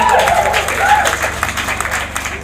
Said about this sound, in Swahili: Wapi makofi ya Reverend Judy tafadhali?